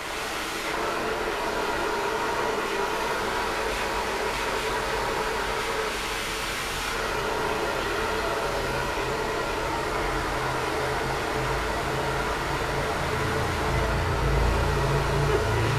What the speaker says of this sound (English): the hair dryer going over there